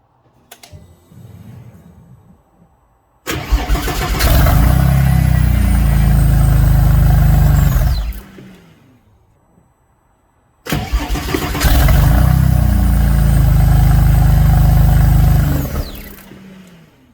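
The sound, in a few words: car engine starting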